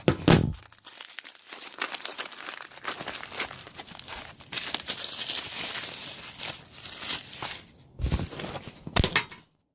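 Packing paper crinkles and tears up close while Royal Enfield Jeep Willys marker lights are unboxed, in irregular crackling bursts with a few louder rustles and handling thumps, no voices.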